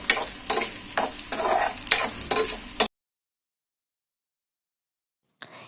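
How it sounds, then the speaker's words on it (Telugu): Tempering seeds fry in hot oil over medium-low flame for a potato curry, a ladle scraping and stirring with repeated sizzling strokes for about three seconds, then silence before a brief return of sound. "తాలింపు గింజల్ని తాలింపుని గరిటెతో తిప్పుతూ బాగా ఫ్రై చేసుకోవాలి"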